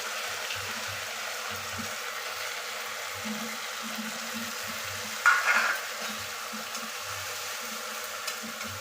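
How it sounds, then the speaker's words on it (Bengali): Spices for a Bengali puti fish dish frying in a little oil with a splash of water, a soft continuous sizzle with intermittent stirring scrapes and a brief louder splutter midway, no talking. "মশলাটা একটু সামান্য তেলে একটু নেড়ে নেব"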